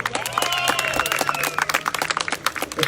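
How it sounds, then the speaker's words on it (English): An audience at a song-and-spirit concert applauds in a close, continuous patter of many hands, with some crowd voices mixed in. "Let's hear a round of applause."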